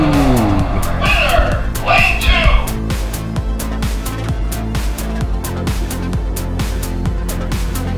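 Hot Wheels die-cast toy cars, a BMW M4 and a Porsche 911 GT2, rolling down an 8-lane downhill track, giving a loud steady rolling rumble with rapid rhythmic clicks over track joints; a voice speaks near the start.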